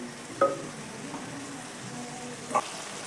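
Boiled lentils (dal) being stirred in a pot for halim, with a couple of sharp scrapes of the spoon against the pot over a low bubbling simmer, close and fairly quiet.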